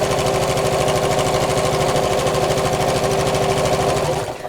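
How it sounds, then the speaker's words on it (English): Sewing machine stitching across the top of a fabric drawstring beach bag in a rapid, even mechanical chatter that runs steadily and close, then slows and stops at the end. "I'm going to do here is to sew across the top and a little way down the sides to hold it in place."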